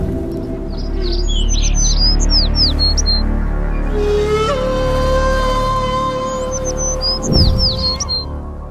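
Birds at Malacca Bird Park chirp in quick bursts of short, high tweets at both the start and the end, over a steady low hum with a brighter tonal whine building and fading in the middle.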